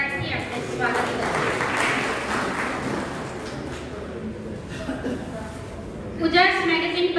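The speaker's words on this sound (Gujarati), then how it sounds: "ફરી એકવાર તેમનું તાળીઓના ગડગડાટથી આપણે સ્વાગત કરીએ." A hall audience at an awards ceremony in Surat claps to welcome a guest, a sustained roll of applause that fades before a voice starts speaking near the end.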